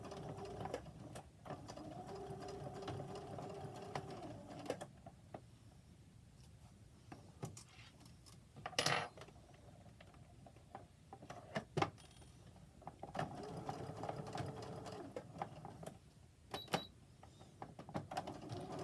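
Sewing machine stitching the binding on a collar, running in bursts of steady whirring hum broken by pauses, faint clicks and fabric handling, close by and quiet.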